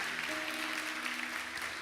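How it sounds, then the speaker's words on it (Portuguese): Congregation applause at a church service: a dense, steady wash of clapping throughout, moderately quiet, with a faint sustained tone underneath and no clear talk. "Dê aquela salva de palmas para Ele."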